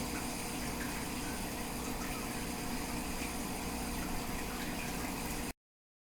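Steady rushing water pouring into an axolotl tank, continuous and fairly loud before cutting off abruptly.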